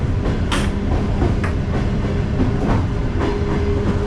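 Ride aboard an electric commuter train: steady loud rumble of wheels on rails with clickety-clack joints and brief sharp hisses, no voices.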